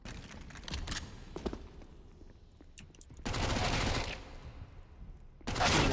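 Bursts of rapid gunfire in a game, several volleys separated by pauses, with sharp single shots and light footstep-like clicks between.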